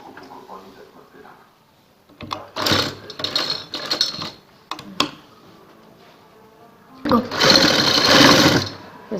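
Close and loud, a sewing machine stitches a neckline design on fabric in rapid bursts, a short run, brief clicks, then a longer burst, separated by quiet pauses with soft handling noise.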